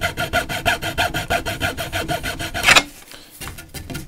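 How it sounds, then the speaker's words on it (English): A hacksaw cuts off a wooden plug set in a knot in self yew longbow stock, rasping in a quick, even rhythm of about fourteen close strokes before a final scrape and quieter handling noises. "Let's hacksaw that bit off."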